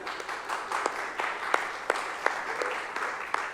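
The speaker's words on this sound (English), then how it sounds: "Round of applause, please, for Som and Oksana." A conference audience applauds as an enterprise AI ethics panel is welcomed, producing a dense, steady wash of clapping with a few sharper individual claps standing out.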